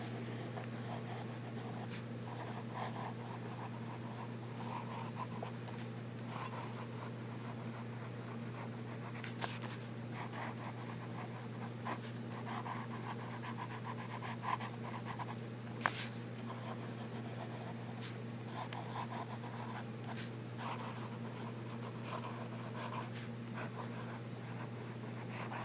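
A Jim Hinze custom fountain pen scratches softly across paper in a run of faint strokes and swirls, set against a steady low electrical hum.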